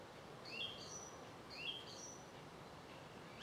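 A thrush singing in the background on a Norfolk coastal walk near Blakeney, a few faint, distant whistled notes and short slurred phrases spaced apart against soft outdoor hiss.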